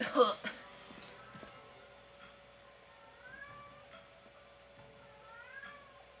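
A house cat meows a few times, faint and distant, after a brief louder noise at the start, over a steady low hum.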